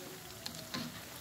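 Banana fritters fry in hot oil in a pan, a faint steady crackle and sizzle with a couple of brief louder pops and stirring sounds, nearby and without talk.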